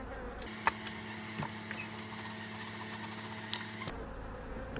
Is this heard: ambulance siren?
no